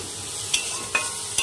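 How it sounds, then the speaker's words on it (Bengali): A spoon stirs and scrapes spice paste with onion paste frying in a pan, three distinct scraping strokes over a soft, continuous sizzle. "পেঁয়াজ কালিটা দিয়ে নেড়ে চেড়ে মশলাটাকে একটু ভালো করে কষিয়ে নেব"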